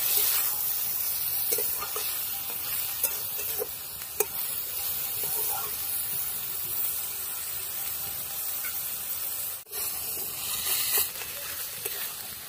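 Radish chechki (grated radish) stirred and fried over low heat in a pan, giving a steady continuous sizzle and hiss with scattered soft scraping strokes throughout, fairly close and alone without talk.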